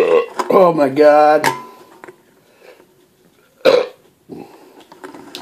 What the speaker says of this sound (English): Those are some epic deep burps.